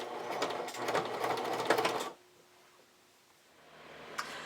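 A sewing machine top-stitches binding around a camisole neckline in a steady, close whirring run of about two seconds, then stops, leaving quiet handling noise and a small click.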